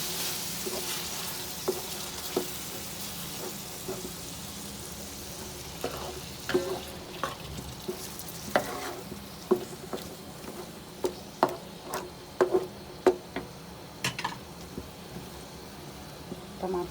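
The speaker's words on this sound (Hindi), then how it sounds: "तमाम मसाले भून रहे हैं" Spices fry in a pan for a beef liver fry, a steady close sizzle with scattered pops and stirring clatter growing busier as it goes, while a voice talks faintly underneath.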